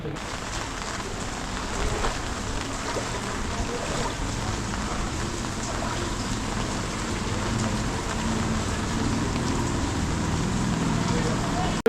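Steady heavy storm rain pours down in Jaffna in a continuous dense hiss, loud and unbroken throughout.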